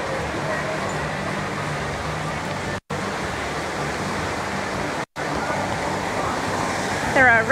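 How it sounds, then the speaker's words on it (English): Man-made resort waterfalls at Atlantis Paradise Island in Nassau, Bahamas, give a steady, loud broadband rush of falling water that runs continuously, with two brief dropouts partway through. "Beautiful display of waterfalls to take pictures."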